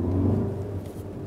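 A 2016 Skoda Superb L&K sedan's 2.0 TSI 220 engine answers the throttle with a steady low hum and a slight rise then easing in tone, heard briefly from inside the car.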